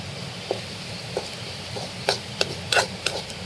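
Chili and pepper powders roasting in a pan over a low, steady sizzle, with a few light clicks and scraping taps from stirring scattered through.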